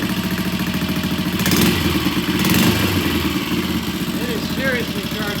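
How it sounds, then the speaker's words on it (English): A vintage British motorcycle engine idles steadily with a raised idle, a continuous close mechanical thrum with slight rises in level and faint clatter, while someone speaks over it in a workshop. "we got the bike running. It's running nicely. I've turned the idle up a bit."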